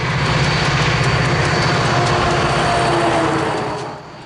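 A CP work train led by an SD40-2 diesel locomotive rumbles past in the mountains west of Exshaw, a loud steady roar with rhythmic wheel clatter that fades near the end.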